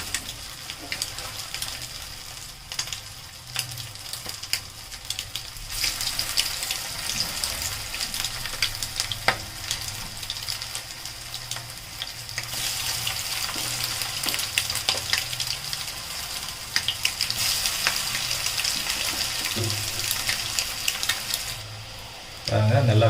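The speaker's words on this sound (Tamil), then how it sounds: "தட்டி இந்த மாதிரி எண்ணெயில் பொறுமையாக போட்டுருங்க" Egg cutlets fry in hot oil in a pan, giving a steady, loud sizzle that rises and falls as more patties go in, with a few faint clinks and little talking.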